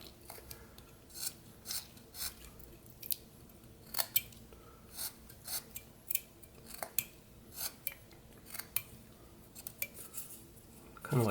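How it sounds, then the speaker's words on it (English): Knife whittling wood to carve the nose of a small Santa figure, a steady series of short, soft scraping and shaving cuts close by, spaced irregularly, in an otherwise quiet room with no talking. "we're going to put a stop cut for the bottom of the nose and just kind of start to cut up to that"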